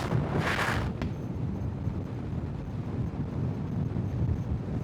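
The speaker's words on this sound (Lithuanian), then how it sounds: "Šiandien kažkoks priešinis vėjas ir vėsus toks" Steady cool headwind roaring over the microphone while riding a motorcycle through the Balkans, a broad continuous rush with a brief hiss near the start, no speech.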